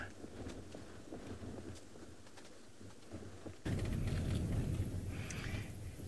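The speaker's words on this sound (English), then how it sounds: "It is also very windy here" Wind gusting across an open safari landscape, a steady rushing roar that grows louder partway through, with faint bird calls behind it and no talking.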